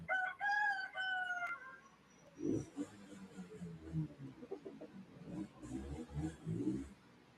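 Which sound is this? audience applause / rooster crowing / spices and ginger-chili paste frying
rooster crowing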